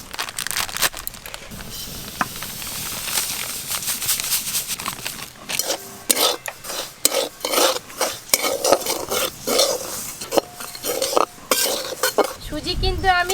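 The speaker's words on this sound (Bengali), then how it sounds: "এই শুকনো কড়াতে হালকা একটু নেড়ে নামিয়ে নেব" Semolina is stirred in a dry kadai with a metal spoon, a gritty scraping that grows into rapid rhythmic scrapes and clinks against the wok, close and clear.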